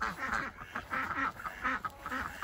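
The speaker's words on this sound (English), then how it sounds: "we've got three ducks" Three farmyard ducks quacking near chickens, a series of nasal quacks in uneven bursts at moderate distance, with no talk over them.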